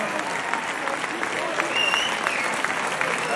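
A premiere crowd in Berlin for The Smashing Machine applauds dense and steady, with scattered whoops and cheers rising over the continuous clapping.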